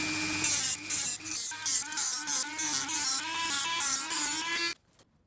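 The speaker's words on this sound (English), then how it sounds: "So to cut that, I'm going to use a Dremel." A Dremel rotary tool cuts a part during a CB Performance 2017cc engine long-block build. A steady high whine grinds on in short pulsing bursts for about five seconds, then stops abruptly.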